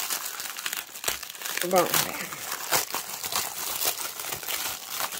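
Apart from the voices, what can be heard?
plastic bag crinkling while unboxing a cross-stitch kit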